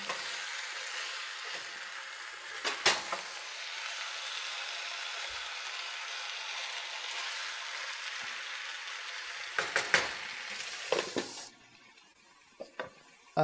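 Fish frying in a pan for a curry, a steady quiet sizzle with occasional scrapes and clinks of a utensil stirring against the pan, fading near the end.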